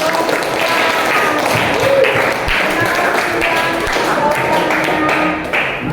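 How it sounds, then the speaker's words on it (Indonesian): A class of students applauding together in a classroom, a steady, dense patter of clapping that fills the whole stretch at fairly high volume with faint voices underneath. "Oke, tepuk tangan dulu."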